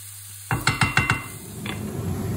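Onions and chili peppers cooking in a pan over low heat, heard as a quick run of four or five scraping, clattering stirs against the pan, close and fairly loud, followed by a steady soft sizzle.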